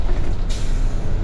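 A passing Kenworth truck lets out a loud, close hiss of air brakes that bursts out partway through over a steady engine rumble.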